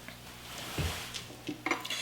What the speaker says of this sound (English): What I'm going to do now is pull in my plate and take the pork out.